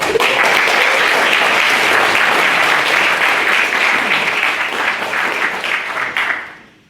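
A large debate audience applauds loudly and steadily for several seconds before the clapping tapers off.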